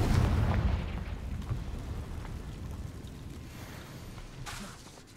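A Confringo blasting spell explodes in the Hogwarts Legacy video game: a loud, booming blast at the start that rumbles and slowly fades over several seconds, with a fainter burst near the end.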